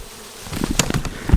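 Bees from a swarm clinging to a tree limb buzz up close in short rising bursts as they fly off, the hum growing louder toward the end with a low thump near the finish.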